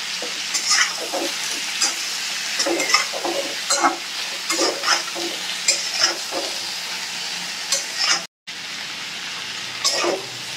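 Drumstick stems, potato and eggplant sizzle in a pan with salt as a spoon scrapes and stirs them in repeated strokes. The frying is close and steady, with a brief dropout near the end and no talking.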